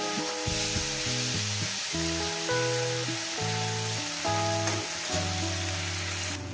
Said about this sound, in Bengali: সামান্য পরিমাণে হলুদ, দিয়ে দেবো মাছগুলো। মাছগুলোকে আমি ভেজে নেব।